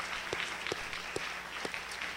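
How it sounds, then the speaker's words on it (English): Conference audience applauding panel participants at a VFX creative labor event, a quiet, even patter of clapping with a few distinct louder hand claps spaced through it. "clap our hands for those individuals"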